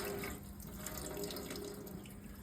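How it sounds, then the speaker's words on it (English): Steady water running from the two separate outlet hoses of a newly installed K8 Kangen water system, a continuous, moderately quiet flow without talk. "we've got water coming out of 2 separate hoses"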